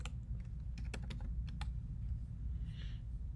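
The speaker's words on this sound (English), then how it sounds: "or you'll type in sites.google.com" Quick bursts of keystrokes on a computer keyboard, a cluster of clicks early on that trails off into a few isolated taps, fairly close and clear over a steady low hum.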